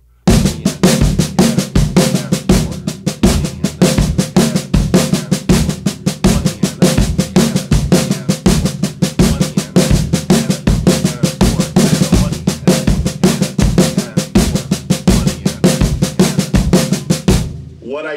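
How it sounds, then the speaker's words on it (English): A drum kit plays a steady worship-style march beat of alternating 16th notes with accents, a crisp, driving pattern repeated without pause for about eighteen seconds, close and loud, with no talking over it. "It's going to be alternating 16th notes with accents."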